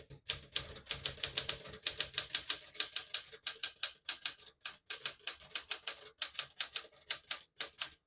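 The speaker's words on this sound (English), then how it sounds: "I'll type a sentence in red on the next line and switch from black to red." A 1966 Smith-Corona Sterling portable typewriter is typed on up close: quick runs of sharp key strikes in irregular bursts with short pauses between, alone and fairly loud, switching to the red half of the ribbon.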